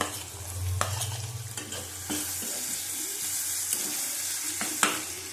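Chopped and crushed garlic frying in oil for an egg chicken tarka gives a steady, close sizzle. Sharp spoon clicks and scrapes against the pan break through it at irregular moments.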